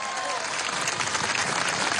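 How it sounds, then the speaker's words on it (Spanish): Dense applause from a large audience at a rock-themed birthday tribute during a political anniversary event, steady and loud across the whole stretch with voices mixed in. "Vale, un aplauso"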